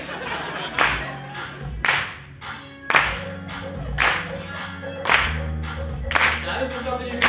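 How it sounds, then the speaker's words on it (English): A group claps together in a steady beat while stepping during an instant-recess activity break. About seven sharp, evenly spaced claps land roughly once a second, loud and close, over a soft tonal hum. "we're adding a clap to it. We're gonna be making noise."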